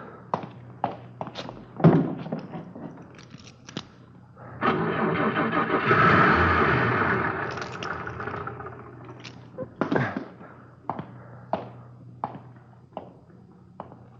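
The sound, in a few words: car engine being cranked, failing to start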